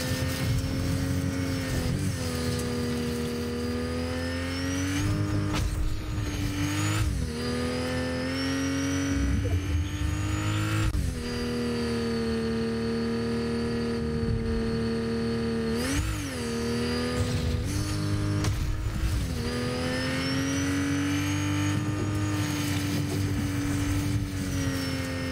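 Video game cars in Fortnite accelerate with a loud, continuous engine drone, rising and falling in pitch through repeated revs and gear shifts over about 25 seconds, with no talking.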